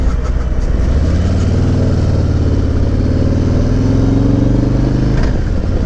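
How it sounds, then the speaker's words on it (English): A Harley-Davidson Road Glide motorcycle cruises along an open road, its engine a loud, steady, close drone that swells gently in pitch with a continuous rush of wind, then drops off near the end. "So here I am getting lost on a road glide."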